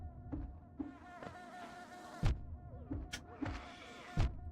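Bees buzzing in the video game Hollow Knight, faint droning insect buzzes that rise and fall in short repeated bursts, with a few soft thumps between them.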